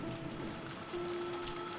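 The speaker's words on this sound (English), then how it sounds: "And it was raining this hard too." Heavy rain pours steadily in the Umineko When They Cry game, a dense, continuous hiss of drops on surfaces with a faint low tone beneath and no speech.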